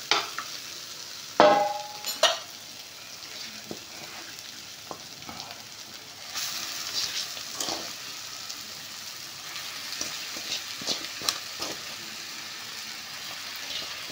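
Marinated chicken tipped into a pan of softened tomato masala for a Kerala-style nadan chicken curry, giving a brief sharp clatter and hiss, then a steady low sizzle with intermittent scraping stirs throughout.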